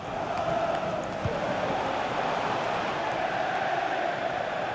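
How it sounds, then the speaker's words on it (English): Stadium crowd noise from a FIFA 21 Liverpool vs RB Leipzig Champions League match, a constant distant roar of cheering and chanting that holds steady without pause. "it must be really great for these Liverpool players to hear this crowd"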